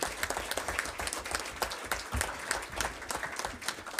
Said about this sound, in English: they deserve a big round of applause for being here this evening